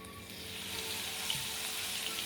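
Garlic dropped into hot oil in a wok, for Korean-style sesame fried chicken, gives a steady soft sizzle and hiss that holds evenly throughout, fairly quiet and close.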